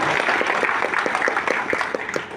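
Applause at a national coordination meeting of PPPK contract civil servants with parliament and ministry officials, a dense steady clatter of many hands from a large indoor audience, sustained throughout without speech.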